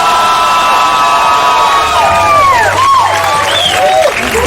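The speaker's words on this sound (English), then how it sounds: "One more time for Jeremiah, everybody." A hot comedy-club crowd roars with sustained applause and cheering for a comedian, a loud, continuous wash of clapping threaded with piercing whistles and whoops.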